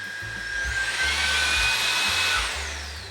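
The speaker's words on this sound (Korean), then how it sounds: "에코 모드 사용 후 전원을 끄면 강하게 한번 빨아들인 후 전원이 오프돼서" A Teendow V11 cordless vacuum motor in eco mode whines up into a strong rushing suction burst at shutdown, swelling for a couple of seconds and then winding down as it turns off.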